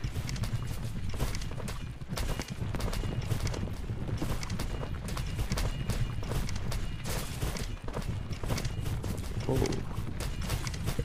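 Horse hooves clatter through a chaotic battle in a war video game, a dense, continuous wash of clip-clop and trampling under a loud, busy mix with a brief whinny-like cry near the end.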